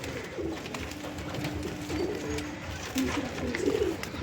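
Fancy pigeons from a dealer's lot coo in low, throaty, repeated calls, mid-distance and moderately loud over a constant background hum.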